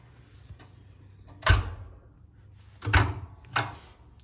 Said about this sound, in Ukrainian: При закриванні пічки у нас складається враження, що ви закриваєте двері в дорогому авто.